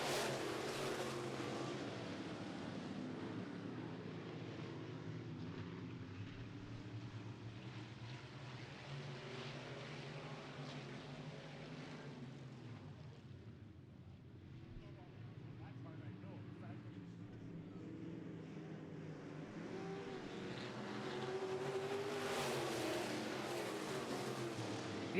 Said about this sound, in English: we're ready to go racing right now with heat number 2 in the Castrol Midwest Modified.